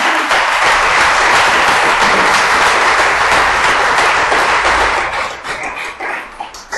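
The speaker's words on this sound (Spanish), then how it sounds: "Dale palmas a Dios." A church congregation applauding loudly and continuously, a dense wash of many hands clapping that holds for several seconds before thinning out near the end.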